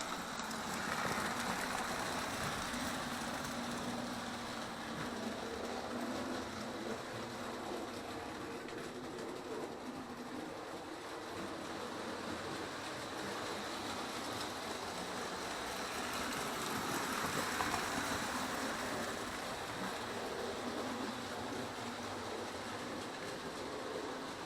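A 1927 Lionel pre-war tin plate model train runs on its track, giving a steady, continuous metallic rumble and whir at moderate level throughout, with no talking.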